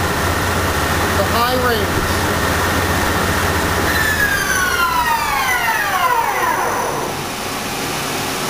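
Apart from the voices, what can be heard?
Dainichi MG75 CNC turning machine spindle running at 1800 RPM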